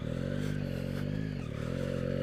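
Yamaha MT-09 motorcycle engine while riding downhill, a steady droning hum with wind buffeting, dipping briefly midway before holding its tone.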